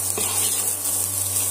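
Vegetables frying in a pan with turmeric powder for a spicy semolina dish, giving a steady close sizzle with no talk, a constant low hum running underneath.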